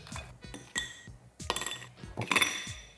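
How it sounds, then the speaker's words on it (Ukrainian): Ice cubes clink and knock into a glass while an iced coffee with lemon pieces is assembled, a series of close, bright taps and rattles in several small bursts. "додати декілька кубіків льоду,"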